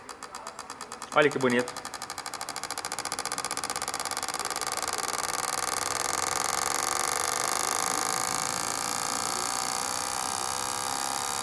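A Honda Civic engine idles steadily after a valve and injector adjustment, a continuous buzzing mechanical drone close by with a brief voice speaking near the start.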